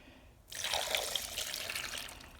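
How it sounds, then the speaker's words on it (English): Broth pours into a pot of chunky roast vegetables, a steady splashing gush that starts abruptly and runs on at moderate, close volume with no talk. "And now I'm going to pour in my broth."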